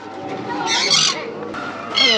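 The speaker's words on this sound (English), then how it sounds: "These parrots are out to entertain everybody, extroverts of the feathered kind." Parrots at Peaceful Bay, Western Australia, give loud, harsh squawks and chattering calls in bursts, with a few people around greeting each other in the background.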